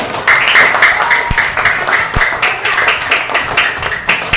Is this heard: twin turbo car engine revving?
no